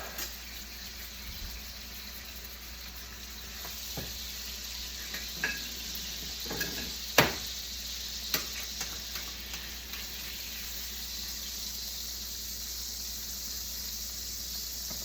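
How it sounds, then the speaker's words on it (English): Pork chops fry in a pan, a steady hiss of sizzling fat running throughout, broken by scattered sharp pops and metallic clinks as the meat is basted. "Now, I'm going to baste once more in the pan."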